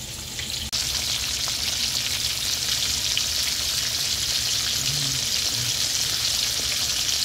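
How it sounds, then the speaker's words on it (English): Fish fries in hot oil to a golden brown at an outdoor homestead fish fry, a loud, steady, close hiss and crackle that holds without pause after a brief quieter start. "So our Deep South fish fry."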